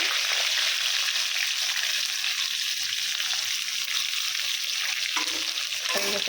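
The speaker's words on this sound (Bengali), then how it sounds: "এটা চিকেনটা কড়া করে ভাজছি কেন বলতো" Chicken pieces fry crisp in a hot pan, a steady dense sizzle running throughout with a brief stir or clatter near the end; no voices.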